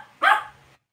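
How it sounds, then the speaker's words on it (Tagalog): A single short, sharp dog bark sounds nearby, loud and clear, then fades into quiet with no talking. "Ano ba tong aso na ito?"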